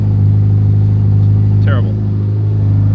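Ferrari F8 Tributo idles after a cold start, a steady low engine hum running evenly through the whole moment, with a brief voice cutting in over it midway.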